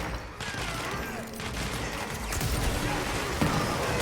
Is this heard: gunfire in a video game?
yes